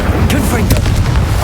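Incendio and Confringo spell blasts in Hogwarts Legacy land as loud, close bursts of fiery booming explosion in quick succession, with a voice speaking over the din.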